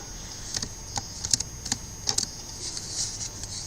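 Keys clatter on a computer keyboard while Python code is typed, in short bursts of crisp clicks with pauses between, close and fairly quiet, with no talking.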